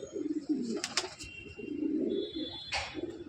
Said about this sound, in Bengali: এটা হলো ব্লু চেকার রেসিং হোমার